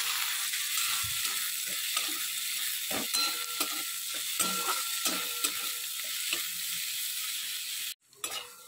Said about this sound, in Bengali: এবার এর মধ্যে দিয়ে দেবো কুচনো পেঁয়াজ। পেঁয়াজটা একটু লাল লাল করে আগে ভেজে নিই।